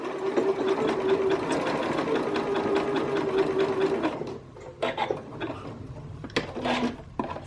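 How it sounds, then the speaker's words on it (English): A sewing machine set to zigzag stitch runs steadily for about four seconds stitching a square, then stops and restarts in short bursts while pivoting at the corners and sewing an X, close and clear. "I have my machine set up for a zigzag stitch, and I just use the default settings, and I'm going to stitch a square and then go and make an X."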